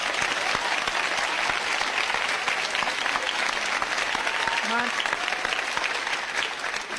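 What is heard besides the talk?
studio audience applauding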